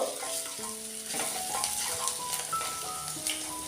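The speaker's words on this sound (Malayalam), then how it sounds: "നമ്മുടെ ഇഞ്ചിയും വെളുത്തുള്ളിയും ചെറുതായിട്ടൊന്ന് മൂത്ത് വന്നോട്ടെ. നല്ലൊരു സ്മെല്ല് വരണ വരെ ഇളക്കി കൊടുക്കുക." Garlic, ginger and curry leaves sizzle in hot oil for Kerala-style kadala curry, a steady close frying hiss with stirring scrapes and some faint tonal ringing in the background, no talking.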